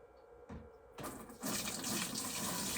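A large, heavy pot of broth is tipped and poured, the liquid running in a steady gush that starts softly, surges after a second and builds into a loud, continuous splashing stream close by.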